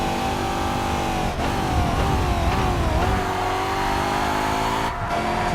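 A DTM race car engine in TOCA Race Driver 3 roars at full throttle, loud and sustained. Its pitch dips briefly at gear changes before climbing again, with faint tire noise underneath.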